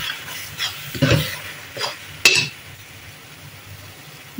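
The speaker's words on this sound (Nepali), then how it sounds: "गरम मसलाहरू हालेर एकछिन चलाउने।" Garam masala being stirred into onion, ginger, garlic and tomato in a pan for Nepali chicken curry: a few scraping strokes with soft clinks over a steady low sizzle, close by, with no talking.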